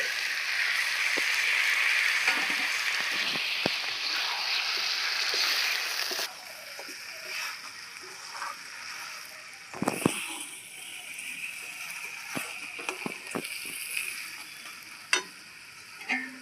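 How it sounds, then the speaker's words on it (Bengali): Marinated country chicken drops onto fried masala in a pan with a strong sizzle that fades after several seconds, followed by quieter frying and scattered clinks and scrapes of stirring. "মশলাটা ভালো মতন কষানো হয়ে গেছে মেখে রাখা মাংসগুলো দিয়ে দিচ্ছি"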